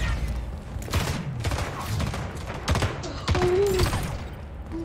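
Bursts of gunfire in the fast-paced arena shooter Splitgate, rapid sharp shots and thumps coming in several clusters, with a player talking excitedly over them.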